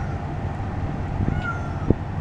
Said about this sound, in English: I hear her meowing though.